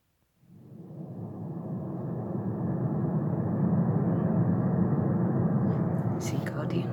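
Airplane ambient sound loop played from an app, a broad low cabin-like roar that fades in and then holds steady, moderately faint, with a few small clicks near the end.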